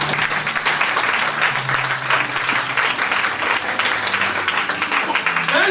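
A church congregation breaks into sustained applause and clapping after a sermon, a dense, steady wash of hands filling the room from start to finish with a faint murmur of voices beneath.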